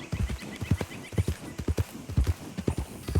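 Horse hooves clip-clop in a quick, steady rhythmic gait in Red Dead Redemption 2, each strike a close, loud thud with no other sound in between.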